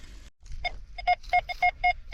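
Metal detector signalling over buried targets during a coin hunt, giving a series of short, clear electronic beeps in an uneven rhythm, close and moderately loud over faint outdoor background.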